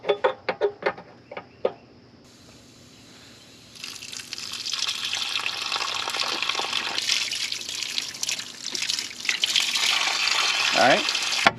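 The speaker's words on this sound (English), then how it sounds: "Let's try to blow through it a little bit, flush through it, get that crud out of there" Water from a hose rushes and splashes as it flushes crud out of a part from a Renault engine left abandoned for 54 years, starting after a few sharp knocks and a quiet pause, then running steadily and fairly loud to the end.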